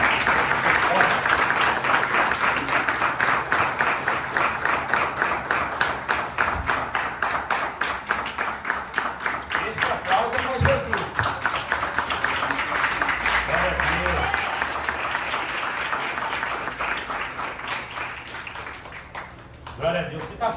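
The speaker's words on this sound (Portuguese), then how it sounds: "Aplauda o Senhor fortemente" A church congregation applauds the Lord during a service, sustained rhythmic clapping that keeps a steady beat for about twenty seconds and thins toward the end, with a voice and faint sounds mixed in midway.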